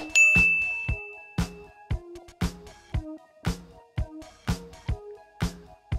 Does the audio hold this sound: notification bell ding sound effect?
yes